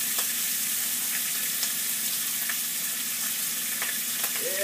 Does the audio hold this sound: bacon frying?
yes